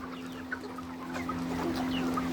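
Tiger breed chickens clucking and murmuring in a group at a poultry farm, with a steady electrical hum underneath and no talking.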